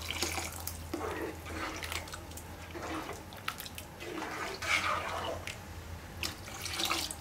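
Thick coconut milk poured into a pot of prawn gravy in a home kitchen, a soft steady liquid trickle with faint splashes under a low background hum.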